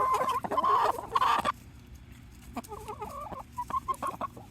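Hens cluck and murmur close by while pecking at mealworm treats, with a burst of louder excited clucking first and then softer, intermittent clucks.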